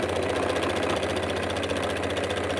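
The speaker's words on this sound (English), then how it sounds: "I sew right off of the fabric, and when I come back on, I never used to, but now I backstitch" A sewing machine runs steadily while stitching fabric and backstitching a seam on a patchwork Christmas zipper pouch, giving a continuous, even mechanical hum with a fast rhythmic stitching pulse, close and unbroken throughout.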